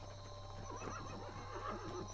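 A horse neighing sound effect: one drawn-out whinny with a wavering, rising and falling pitch over a steady background hum, fairly faint and with no talking over it.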